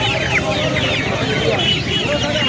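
Bangladeshi desi chickens cluck and squawk in a dense, continuous chorus at a busy poultry market, with occasional crowing and people talking amid the noise.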